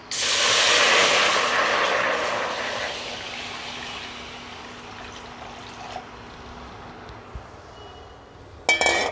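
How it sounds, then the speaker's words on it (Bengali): Water hits a hot wok in a loud burst of hissing steam that fades gradually over several seconds, followed by a few faint clinks of utensils against the pan. "এবার কড়াইতে দিয়ে দিচ্ছি জল।"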